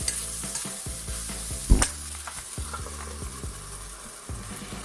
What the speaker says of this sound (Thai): นี่ก็คั่วผักบง